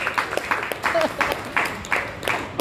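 Applause from an audience at a Hindi comedy show, brief bursts of clapping rising and falling over about two seconds, mixed with crowd noise and a voice.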